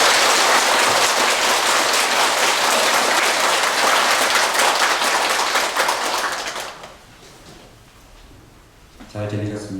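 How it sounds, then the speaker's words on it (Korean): A Buddhist temple audience gives loud, dense applause to welcome a monk at a Wednesday dharma gathering. The clapping fades after about seven seconds, and then a voice starts speaking. "불자 여러분들께서는 모두 큰 박수로 스님을 환영해 주시기 바랍니다"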